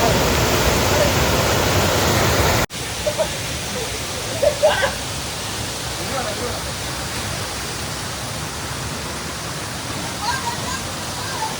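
Marmala waterfall roars as a steady, loud wash of rushing water, broken by a brief cut near the start, with faint voices now and then under the constant flow.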